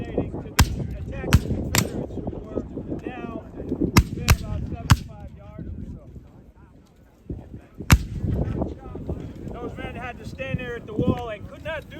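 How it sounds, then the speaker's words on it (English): Civil War reenactors fire muskets loaded with buck and ball, giving several sharp, loud cracks spread across the clip among wind noise and talk, with one isolated shot after a brief lull. "So when they let loose that volley"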